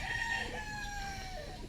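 Chickens at a farm in Masbate make short, close clucks and a brief crowing call over a steady background hum.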